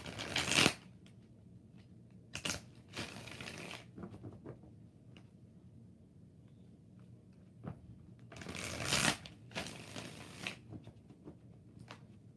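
Tarot cards riffled and bridged in several short bursts, with quieter fiddling and light tapping between them, close by.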